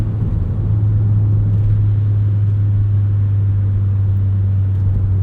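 A Volvo 850 R car cruises along a backroad, its engine producing a loud, steady rumble with a strong low drone held evenly throughout, with no talk over it.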